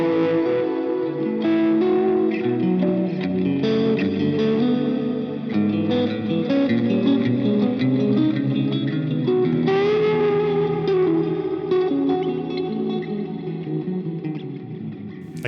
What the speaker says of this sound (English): there's a spring reverb in there, and there's like a very subtle pulsing like tape delay going